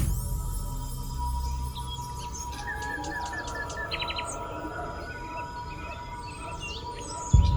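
Birds chirp and call in short repeated bursts over a steady hum of insects, a busy outdoor chorus with several voices near and far.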